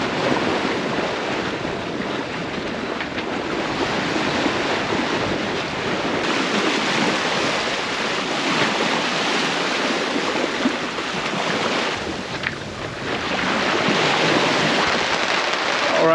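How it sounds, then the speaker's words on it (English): Squall wind roars and ocean waves rush around a sailboat on the Atlantic, a loud, dense, continuous wash with gusting buffets against the microphone and no talk. "All right, so we just got hit by a squall."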